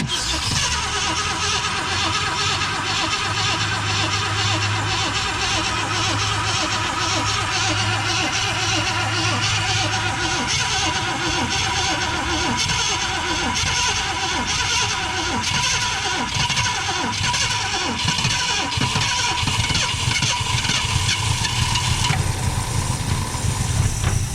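A Ford Galaxie engine cranks, catches for the first time and settles into a rough, steady idle through a plugged exhaust, loud and close, running continuously throughout.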